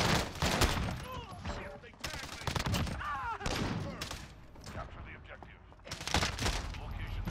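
Bursts of rapid video game gunfire in a first-person shooter match, several loud fusillades separated by short gaps, with a player's voice talking over parts of it.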